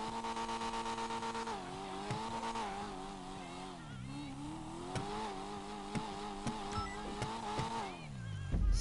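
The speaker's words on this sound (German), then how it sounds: "Erstmal Motor warm machen." Car engine in a racing video game, held at a steady buzzing idle-rev that rises and dips in pitch over several seconds, close and continuous, with a few clicks and a final thump.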